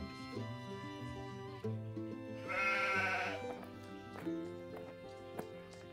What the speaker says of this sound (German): schickten einen Ziegenbock über die Brücke